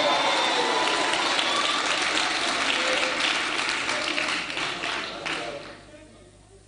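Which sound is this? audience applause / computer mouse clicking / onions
audience applause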